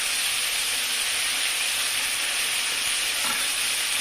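Garlic and onion paste fries in a pan with oil, giving a steady, close hiss and sizzle, with faint scraping from stirring and no talking.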